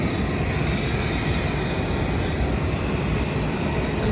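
Airliner taking off or flying on a route from Tasmania toward Launceston, south of Melbourne, a steady loud broadband engine roar that holds level throughout with no voices.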